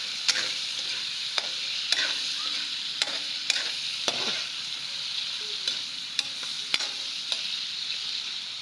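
Meat fat sizzling steadily in a hot pan, a dense continuous hiss close to the microphone, broken by occasional sharp ticks and scrapes as the pieces are stirred.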